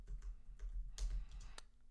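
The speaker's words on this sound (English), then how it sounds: "start typing" Quiet typing on a computer keyboard while editing text on a web page, with a handful of light, irregular key clicks close by and no talking.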